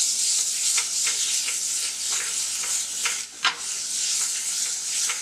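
Salsa and queso dip ingredients, including tomato, sizzling and browning in a pan, with a steady crackling hiss and scattered sharper pops, one louder pop standing out, with no talking.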